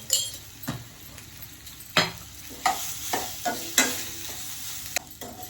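Spices and boiled raw banana with turmeric fry in a pan, a low sizzle broken by repeated clinking stirs of a metal spoon against the pan.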